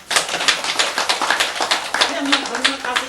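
Applause from an audience at a Buddhist sermon, a dense run of many hands clapping that holds steady and fairly loud for a few seconds.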